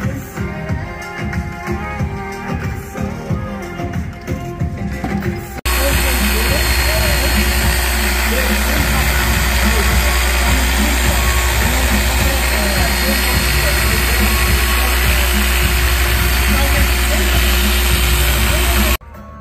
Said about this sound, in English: So we're doing a two-step polish now